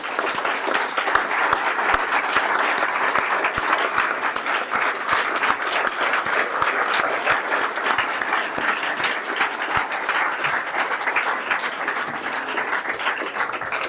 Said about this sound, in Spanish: Un fuerte aplauso al doctor Gustavo Petro.